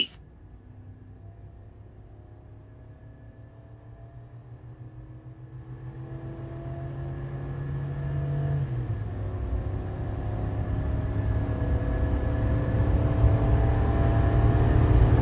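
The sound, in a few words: 2024 Chevy Silverado HD gas L8T V8 truck accelerating 0 to 60 while towing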